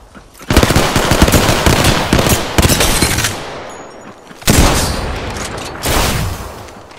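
Rapid automatic gunfire in Apex Legends, two loud close bursts of shots separated by a brief lull, with no talk over them.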